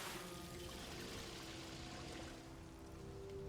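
Water pours away steadily in God of War III. It makes a dense, continuous rushing stream that holds at an even level for the whole stretch, with no talking.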